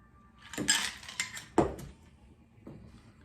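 A cocktail is poured from a shaker fitted with a strainer. A few sharp clinks and rattles of metal and ice come close by, with a quiet pause between them.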